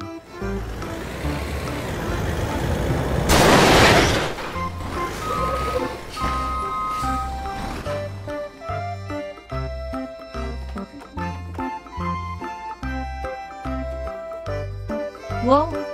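A toy cement mixer truck plays its electronic jingle, a bright tinkling melody with a steady beat that runs alone and fairly loud across the clip, with a louder burst partway through.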